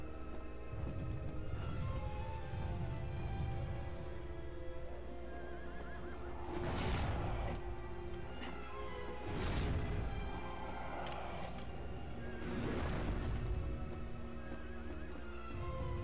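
A horse in Shadow of the Colossus (PS2) neighs loudly several times, each whinny a bright rising burst, separated by quieter stretches of low rumbling background.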